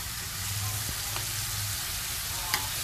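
Catfish pieces for a caramel braise sizzle in a pan with a steady, close, broadband hiss, while a few sharp clicks and scrapes mark stirring with a utensil; no voices are present.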